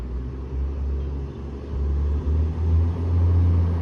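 Orion NG Hybrid city bus on a park-side street, a steady low engine rumble that swells and grows louder as it nears and passes, with no voices.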